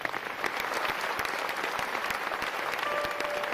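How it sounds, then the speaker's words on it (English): An audience at an honorific lecture celebrating a lawyer's lifetime achievements applauds a professor, with dense, steady clapping from many hands filling the whole stretch at a close, even level. "Shall we do a big round of applause for him?"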